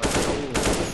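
Rapid gunfire in the video game Black Squad, a short, loud burst of automatic shots with no talking.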